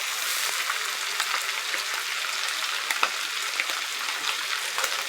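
Haddock fillets fry skin side down in a hot pan, a steady bright sizzle with scattered crackles and pops throughout, close and alone without talk.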